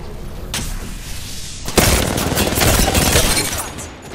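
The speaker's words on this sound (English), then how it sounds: "Throwing thermite grenade." A thermite grenade goes off with a sharp loud blast in a video game shooter, followed by sustained crackling burning and bursts of gunfire that keep going to the end.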